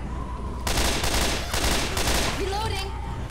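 Rapid bursts of gunfire from a co-op Left 4 Dead zombie shooter session, dense overlapping automatic shots filling the clip, loud and continuous with a brief pause midway.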